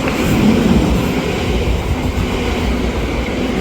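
A train rolls along steadily on its rails, a continuous loud rumble of wheels and carriage noise from close by, heard from on board or right beside the track for the whole stretch, with no voices.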